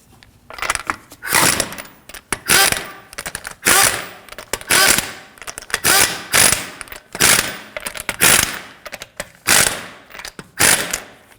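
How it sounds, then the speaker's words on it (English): A ratchet snugs down the lug nuts on a 2013-2015 Subaru XV Crosstrek wheel, with close, loud bursts of rapid clicking repeating about a dozen times in a steady rhythm separated by short pauses. "Snug the lug nuts down, but don't over tighten them"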